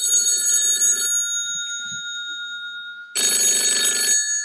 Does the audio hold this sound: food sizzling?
no